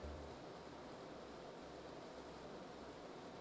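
Steady broadband whoosh of a Systemtreff ITS-360C / ITS-Raven220 CPU cooler fan, heard from about 20 cm away, an even, continuous hiss with no talking.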